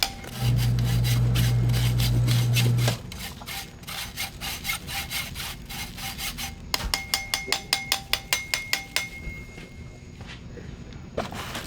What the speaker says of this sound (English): you're gonna be able to just really get it through this sieve without clogging your sieve up